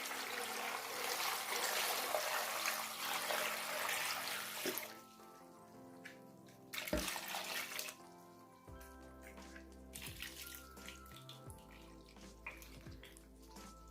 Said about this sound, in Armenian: Հիմա ջուրը կավելացնեմ և կծածկենք